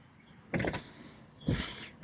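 Windshield wipers on a 4th-generation Toyota Camry, fitted with new PIAA silicone blades, sweep across the glass twice: two brief whooshing, motor-driven passes about a second apart, close by, with no talking.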